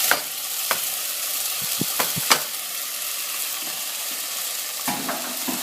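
Food fries in a pan with a dense, continuous sizzle broken by sharp spatula scrapes and taps against the metal, close and steady throughout with no voices.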